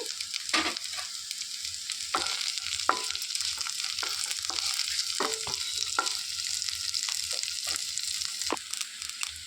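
Beans with green chillies and curry leaves cook in a pan for a Hyderabadi veg dum biryani, a continuous close sizzle punctuated by repeated scraping stirs of a spoon.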